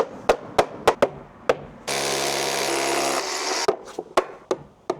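A power drill whirs in one steady burst of a couple of seconds, drilling into pre-drilled holes while plastic shutters are mounted, framed before and after by a series of sharp tapping knocks.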